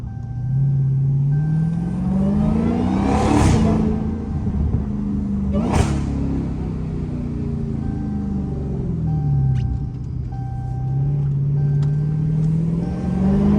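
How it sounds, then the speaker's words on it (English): A Dodge Hellcat pulls through its gears, the engine note rising and falling with two sharp, throaty downshift blips and a deep rumbling drone heard from inside the car. "Let y'all hear them aggressive downshifts."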